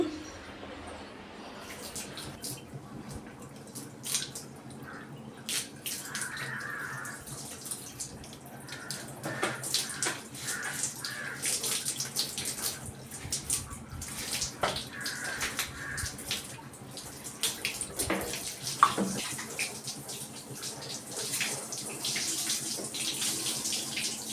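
Tap water runs and splashes steadily while a kitchen stove is scrubbed clean, with trickles and drips over a continuous wash and no talking.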